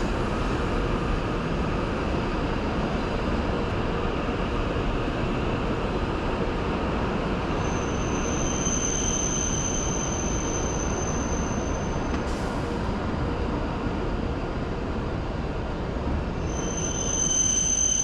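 Inside a JR East Shinkansen running from Nagano to Tokyo, a steady low rumble of the train fills the cabin, with thin high-pitched wheel squeals rising twice and no voices heard.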